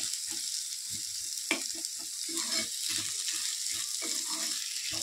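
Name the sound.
peeled onions frying in a pan for fish curry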